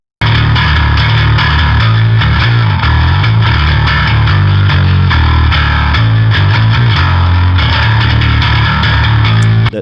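Recorded bass guitar tones, a clean DI blended with a distorted amp tone for a dark metal production, play a steady, thick, driving riff at full level throughout, with no talking.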